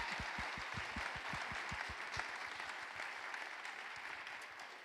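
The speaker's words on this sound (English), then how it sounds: "a round of applause to our students for such fantastic questions" An audience at a county address gives a round of applause for students, steady clapping from many hands at moderate distance, dense and continuous for several seconds.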